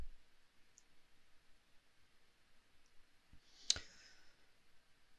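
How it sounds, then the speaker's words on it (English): A single soft computer mouse click sounds during software work in Ansys Mechanical, a faint, brief tap in an otherwise quiet room. "So I'll click on that."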